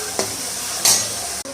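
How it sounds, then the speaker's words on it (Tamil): Onion and tomato sauté in a pan for a prawn podi kuzhambu, a soft sizzling hiss under two brief scraping stir strokes, close and without talk. "இப்போ வெங்காயம் தக்காளி வதக்கிக்கிட்டு இருக்கேன்"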